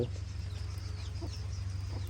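Chickens cluck softly during rain in a rural garden, with a few short calls scattered over a steady low hum and the patter of rainfall, fairly close and moderately loud.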